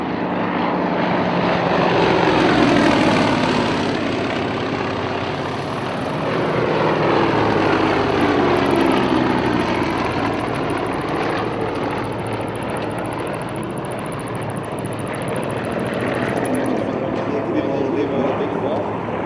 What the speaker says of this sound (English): As the aircraft swoop by,